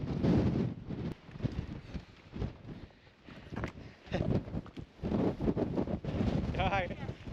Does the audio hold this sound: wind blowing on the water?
yes